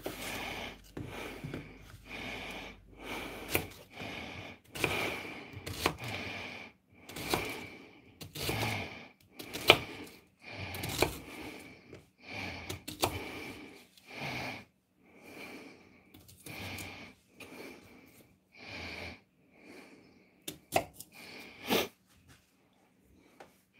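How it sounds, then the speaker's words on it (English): Onions chopped with a knife on a cutting board during home cooking, a long run of steady, fairly close knife strikes in an irregular rhythm with brief pauses, no talking. "So, time to chop up some onions."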